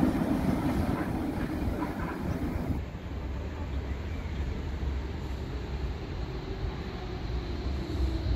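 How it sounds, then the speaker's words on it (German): A Berlin S-Bahn train pulling into a station platform, a steady rumbling roll with clatter and wind-like hiss throughout, changing character partway as it slows. "Eingefahrener Zug auf Gleis 2, S45, nach Flughafen Schönefeld, über Neukölln, Schöneweide."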